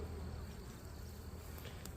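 Bees buzz around the entrances of a beehive outdoors, a steady close insect drone with a low hum running continuously and no talking.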